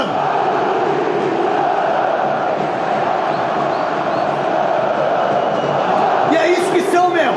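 Corinthians football supporters chant in a dense, steady roar of massed voices that fills the whole stretch, loud and continuous, with a few sharper shouts rising near the end.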